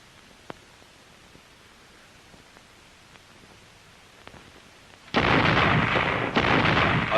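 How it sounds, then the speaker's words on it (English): An artillery regiment's synchronized barrage erupts as a sudden loud, sustained roar of blasts after a quiet stretch with a few faint distant thumps. "A synchronized barrage"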